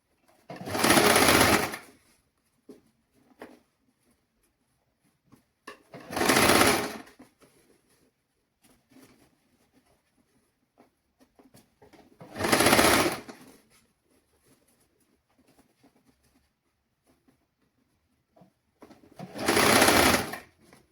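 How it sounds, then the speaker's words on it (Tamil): An electric sewing machine stitches fabric for a girls' dress in four separate bursts of fast, whirring needle action, each lasting about a second or two, with quiet pauses between them and no talk. "இந்த கீழ் சுருக்கு பகுதியெல்லாம் நாங்கள் நேராக எடுத்து விட்டு தான் நாங்கள் இதை தைக்க வேணும்"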